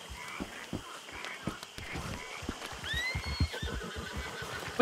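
A horse in Red Dead Redemption 2 whinnies with rising and falling cries over a patter of hoofbeats on the ground, close and fairly loud, with no talking.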